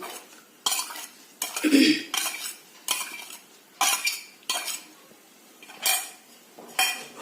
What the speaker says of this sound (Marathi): आता आपल्याला हे मोठ्या गॅसवरती चमच्याने ढवळत राहायचं 1-2 मिनिटं